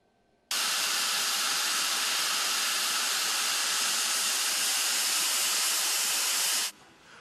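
Late-1940s steam locomotive at a railway station platform releases a loud, steady hiss of steam that starts abruptly, holds for about six seconds, then cuts off.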